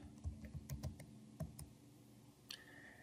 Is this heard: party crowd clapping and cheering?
no